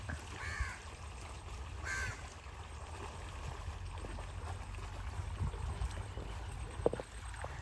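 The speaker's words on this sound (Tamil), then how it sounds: "இந்த காக்காங்களாம் எப்படி குளிச்சுக்குதுங்க பாருங்க." Crows caw a couple of times, fairly near, while bathing in water, over a constant low background of water and outdoor noise.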